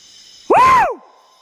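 A single loud shout in dense forest in the Titiwangsa Range, Malaysia, rising then falling in pitch, cuts through quiet surroundings and fades out quickly.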